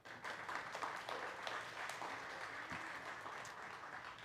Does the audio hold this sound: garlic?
no